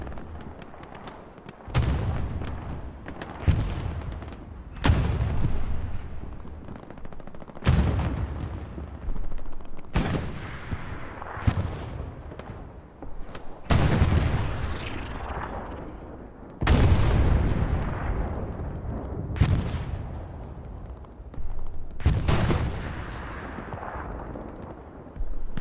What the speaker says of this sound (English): artillery today is really on point